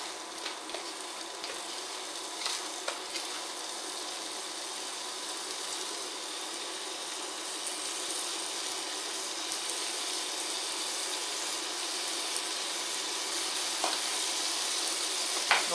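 Sliced chicken pieces fry in a pan with a steady, close crackling sizzle, joined by occasional stirring scrapes and pops over about sixteen seconds, with no talking.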